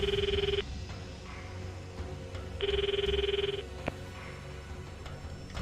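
A telephone rings in a quiet room in the anime Steins;Gate 0, two electronic trilling bursts separated by a pause, clear and steady over a soft low hum.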